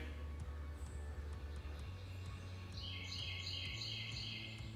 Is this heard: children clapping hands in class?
no